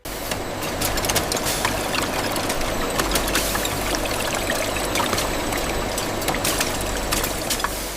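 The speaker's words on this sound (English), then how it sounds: "The gravity filler is the engineering centerpiece of the facility" A rotary gravity filler at a mineral water bottling plant runs steadily, with loud continuous rushing and trickling water over a low machine hum and faint rapid clinks.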